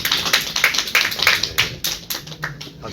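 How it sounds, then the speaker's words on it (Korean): A small gathering at a Korean group scripture-meditation session claps to welcome a speaker. Close, crisp hand claps come in a quick, fairly regular run, few enough that individual claps stand out. "큰 박수로 부탁드리겠습니다"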